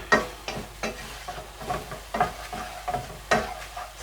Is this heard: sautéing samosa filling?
yes